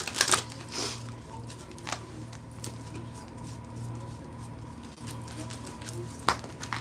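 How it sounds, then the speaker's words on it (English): A deck of playing cards is shuffled in soft, repeated riffling bursts at close range, under a steady low hum with a voice talking over it. "I'm just trying to shuffle, y'all."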